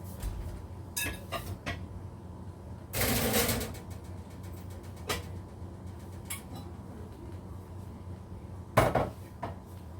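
An 8x8 baking pan is handled in a home kitchen, producing a loud metallic clatter near the start and another sharp rattle toward the end, with faint knocks and taps between the louder bursts.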